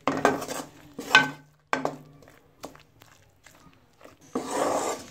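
Gram flour being stirred and roasted in a pan over a low to medium flame for besan halwa, with close, intermittent scraping strokes separated by brief pauses and a denser rubbing burst at the end.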